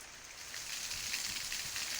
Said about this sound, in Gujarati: દાહોદના સંજેલી તાલુકામાં ધીમી ધારે વરસાદ પડ્યો